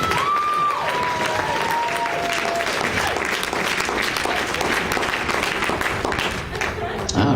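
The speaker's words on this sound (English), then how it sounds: "Let's give them all a great big round of applause" An audience applauds loudly and steadily, a dense wash of clapping with some cheering that fills the whole stretch, and a voice talks briefly over it near the start.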